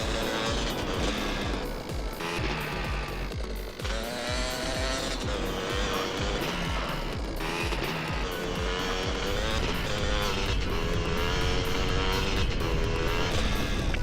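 A motorbike in GTA San Andreas revs continuously along a highway, a loud, steady engine drone with shifting pitch and occasional tire squeals, layered under game music.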